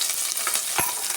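Crushed garlic, two dried chillies and curry leaves fry in hot oil in a pan, a loud, steady sizzle with a few scraping stirs of a spoon, close and without any talking.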